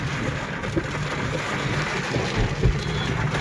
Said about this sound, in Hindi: वर्षा आरंभ हो गलानी जोर से